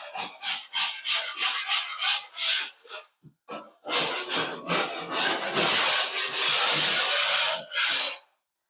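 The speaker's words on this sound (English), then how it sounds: "So this has got a bunch of pre-fill in it. I'm going to get this scraped out." A drywall knife scrapes pre-fill compound out of a wall joint in close, loud strokes, first short quick passes, then a brief gap, then long continuous rasping scrapes.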